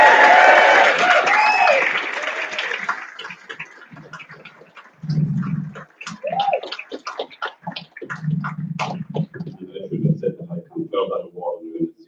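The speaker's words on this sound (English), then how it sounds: "give her a special round of applause" Applause for a graduate at a 2024 graduation ceremony, a broad clapping wash loud at first that fades within a few seconds, followed by voices talking over it.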